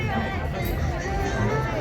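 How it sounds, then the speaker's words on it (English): Crowd chatter at the opening gates of the Lollapalooza festival in Chicago, a dense babble of many voices close by with a nearer voice standing out. "There's the opening crowd."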